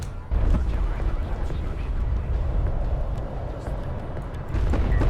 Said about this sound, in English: Barrage is gonna go wide here.